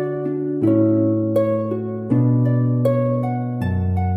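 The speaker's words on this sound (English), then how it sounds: "Now, I think a lyre kind of sounds like this." A lyre is plucked in slow, ringing notes and chords that sustain and overlap, with no voices, clear and close.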